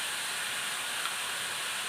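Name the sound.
onions with salt sautéing while being stirred in a pan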